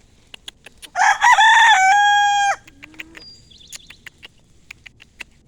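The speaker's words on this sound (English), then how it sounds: "all these are my young roosters" A young rooster lets out one loud, close crow lasting about a second and a half, followed by soft clucks and chirps from other fowl nearby.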